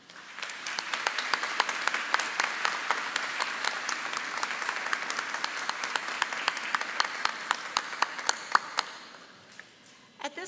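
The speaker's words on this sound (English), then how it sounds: "Graduates, please join me now in applause for all of those who have helped you along your journey." A commencement audience at Drury University claps steadily for about ten seconds, a dense wash of many hands with a few sharper individual claps, tapering off at the end.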